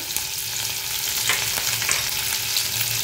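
Green chillies and curry leaves frying in hot oil for a tempering, a steady close sizzle and spatter with occasional stirring scrapes, no voices.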